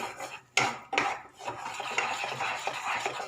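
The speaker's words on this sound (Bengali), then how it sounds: "মশলাটাকে খুব ভালোভাবে কষে নেবো যত তেল ছাড়া পর্যন্ত।" Spices with turmeric and coriander powder stir-fried in a pan for methi matar, with a couple of sharp utensil knocks against the pan followed by continuous close scraping and stirring.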